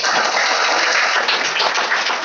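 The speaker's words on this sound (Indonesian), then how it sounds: "Coba tepuk tangan dulu." A school class claps hands together, a steady, dense patter of applause filling the room, close and fairly loud throughout with no talking over it.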